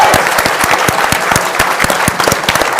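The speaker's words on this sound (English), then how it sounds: "Round of applause for Eric." Audience applause for co-producer Eric Harris at an official premiere at the National Archives: steady, dense clapping from a sizable crowd with a few sharper individual claps standing out, loud and sustained throughout.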